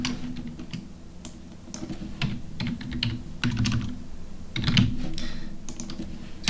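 Steady typing on a computer keyboard, with a run of quick, uneven clicks and taps that continues throughout at a close, moderate level while text is being entered on a WordPress website.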